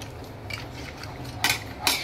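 Soft scraping of a spoon in a metal pot, with two sharper clinks near the end, close and quiet.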